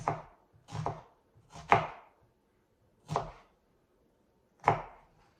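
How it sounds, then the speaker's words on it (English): A knife chops an onion on a board in a home kitchen: five distinct, crisp cuts spaced irregularly, close and clear with quiet between. "you just want to slice through approximately down those veins of the onion, about 2 centimeters"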